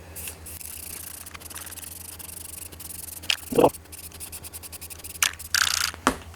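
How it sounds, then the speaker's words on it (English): A part of a Toro TimeCutter SS5000 zero-turn mower is spray painted, with short, close bursts of aerosol hiss separated by quiet pauses. "I'm just going to spray."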